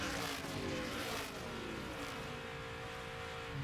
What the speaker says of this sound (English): you can hear her working the throttle there